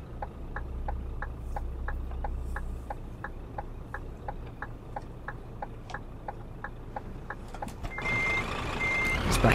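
Reversing alarm on a truck backing into a parking spot in Euro Truck Simulator 2, a steady train of evenly spaced beeps over a low engine rumble, with air hiss near the end.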